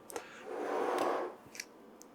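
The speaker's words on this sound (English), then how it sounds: "I'm going to use scissors to just cut them up" Scissors cut chicken in a bowl with a few sharp snips close by, followed by a soft, brief rustling swell, all fairly quiet with no talking.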